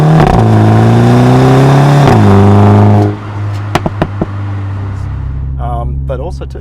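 A 2017 MINI Countryman JCW engine revs loudly and steadily, its pitch rising and dipping, then drops away to a lower rumble with a few sharp clicks.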